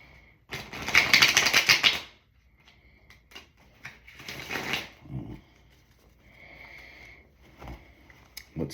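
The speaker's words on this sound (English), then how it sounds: "let's shuffle some cards and see what we got for you" Two bursts of rapid riffling and flapping as a tarot deck is shuffled close by, with quieter handling sounds between.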